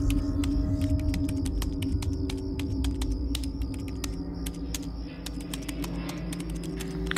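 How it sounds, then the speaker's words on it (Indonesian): Rapid, irregular key clicks tap over a low steady hum, like someone typing on a computer keyboard in a quiet room. "Iya, suara keyboard komputer."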